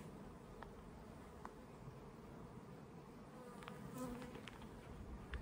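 A faint, continuous buzz of many honeybees in flight around the hives forms a low, even drone, with a few brief higher buzzes of individual bees passing nearby.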